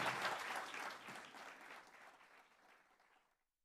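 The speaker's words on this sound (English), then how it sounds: "This is your applause." Applause from a conference audience at a high-level international policy gathering, a dense burst of clapping that gradually thins and fades out over a few seconds, with no speech over it.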